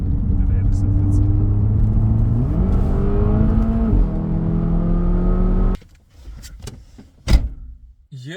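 A Polestar electric car accelerates on a wet road, its drive whine climbing steadily in pitch for several seconds before cutting off abruptly, followed by a few sharp knocks and thumps.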